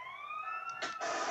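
Wailing ambulance siren from the video game GTA San Andreas, a steady rising tone that holds briefly and is broken by short bursts of noise, fairly faint and heard alone.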